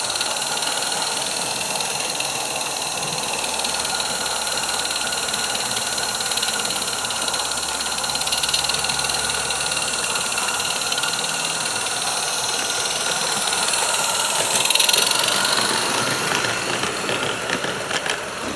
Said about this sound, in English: The George locomotive looking very smart in the sun.